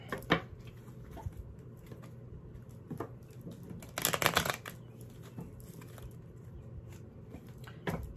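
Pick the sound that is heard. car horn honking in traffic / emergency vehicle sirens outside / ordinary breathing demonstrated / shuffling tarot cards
shuffling tarot cards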